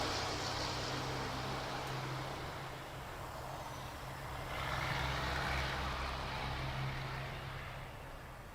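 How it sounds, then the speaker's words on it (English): At night outdoors, a truck rumbles past at a distance. Its low drone swells to a peak partway through and then fades back into faint background noise. "Truck."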